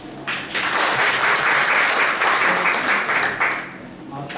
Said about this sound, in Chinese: 那我就来掌声欢迎一下陈嘉纯。